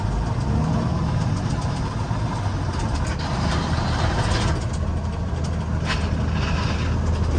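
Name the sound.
old Super 10 truck with bad transmission synchronizers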